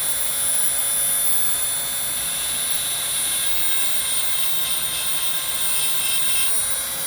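A Dremel rotary tool grinding and shaping a piece of stone kept wet, giving a steady, loud high-pitched whine with constant grinding hiss that holds throughout without pause.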